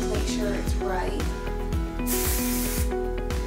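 Hairspray sprayed onto long curly hair during styling, repeated bursts of bright hissing spray among other sounds, with a voice and background music underneath.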